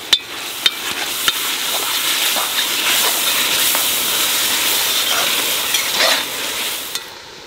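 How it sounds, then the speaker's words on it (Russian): Meat for Fergana-style Uzbek plov sizzling in hot oil over high heat while being stirred, a steady close frying hiss with a few sharp clinks of the utensil against the pot. "Мясо немножко прожарилось, и теперь можно добавлять соль. Добавим 1 столовую ложку и продолжаем интенсивно перемешивать"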